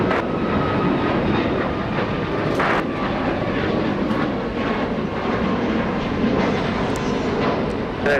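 A commercial jet takes off from runway 25 right at Los Angeles International Airport, its broad engine roar steady and fairly close throughout, with no talk over it.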